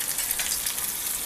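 Garlic, curry leaves and asafoetida sizzling in hot oil as a tempering, a steady close hiss of frying that runs throughout with no voices.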